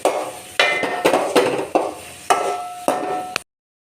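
Onions being stirred in a pan on the way to a noodle dish, with a series of distinct scraping and clanking strokes of a utensil against the pan, about eight in a row, close and clear before stopping abruptly.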